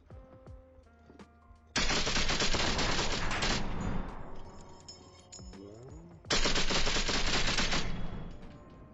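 Bursts of automatic gunfire in the Onward VR shooter game, two sustained loud volleys separated by quieter gaps with scattered shots and clinking, no talk.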